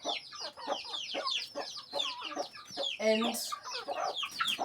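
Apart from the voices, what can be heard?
hen clucking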